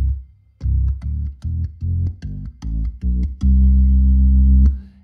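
A Hammond B3 organ on the 16-foot drawbar in its original setup plays a scale of deep, round bass notes, seven short steps ending on a long held tone, close and loud with no other sound.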